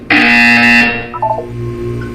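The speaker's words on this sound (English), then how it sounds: "You will hear a buzzer." A loud, harsh buzzer in the video game Portal 2 sounds for nearly a second, then cuts off into softer electronic tones and a lingering hum.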